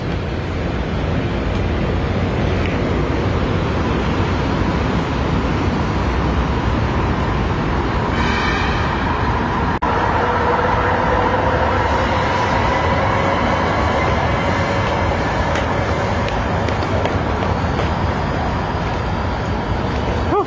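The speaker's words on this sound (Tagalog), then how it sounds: "Ito daanan ng train." A train rumbles past Shaw Boulevard station on EDSA amid heavy roadway traffic, a loud continuous roar with a brief squeal partway through.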